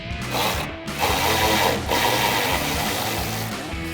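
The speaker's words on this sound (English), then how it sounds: "we're going to loosen but not fully remove these upper mounting nuts with our 10mm socket" A ratchet with a 10mm socket loosens an upper mounting nut on a 2016-2024 Camaro coupe trunk lid, making a continuous close, buzzing whir at steady loudness throughout, with no talking.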